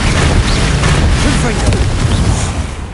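A Bombarda explosion spell in Hogwarts Legacy erupts into a loud, close rumbling blast with crackling debris that holds steady for several seconds before easing slightly.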